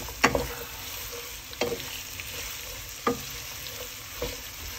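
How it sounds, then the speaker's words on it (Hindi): Chicken frying in mustard oil in a pan for chicken bhuna, a soft steady sizzle broken by four sharp stirring scrapes spaced about a second and a half apart, close by with no talking. "और अब मैं इसको फ्राई कर लूंगी।"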